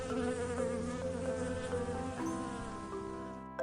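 A bee buzzes in a steady, close drone with wavering pitch, joined by a soft tonal backing throughout the few seconds.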